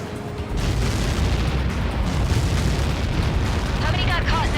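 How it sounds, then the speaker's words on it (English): A massive in-game blast from the Helios projectile impact in Ace Combat 7 roars as a loud, sustained rumbling explosion that swells and holds for several seconds, with a faint radio-like chatter near the end. "How many got caught in that explosion?"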